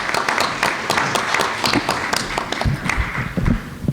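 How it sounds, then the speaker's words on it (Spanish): Audience applause after a talk by a doctor at a health forum in Peru, steady dense clapping filling the room for several seconds with no pauses. "Un aplauso, por favor"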